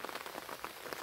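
Light rain patters steadily on a vegetable garden with shredded corn stalks and flowering chives, a soft continuous hiss of close drops with no voices.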